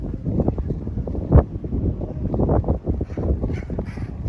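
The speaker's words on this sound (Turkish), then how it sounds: "Çok kuvvetlendi rüzgar." Strong wind buffets the microphone with a continuous roaring rumble, gusting unevenly throughout, with a faint distant bird call partway through.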